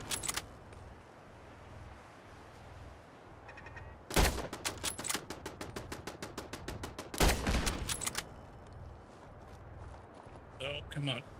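Turrets firing in a video game around an underground shelter: two bursts of rapid, evenly spaced shots, each lasting a few seconds, loud and close over a low background hum, with a short rattle near the end.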